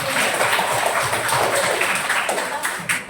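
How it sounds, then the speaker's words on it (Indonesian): An audience at a classroom teaching session bursts into applause, dense clapping filling the space at a moderately loud level and slowly thinning toward the end. "beri aplaus dulu untuk orangnya"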